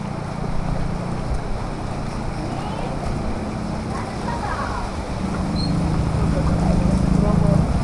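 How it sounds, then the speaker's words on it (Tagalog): Steady wind and rain during Typhoon Aghon in Santa Cruz, Laguna, a continuous broadband rush that swells louder toward the end, with voices talking underneath. "maulan pa rin, mahangin at may mga dumadaan pa rin."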